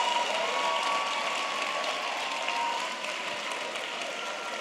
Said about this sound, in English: All art students should clap to show that you are impressed.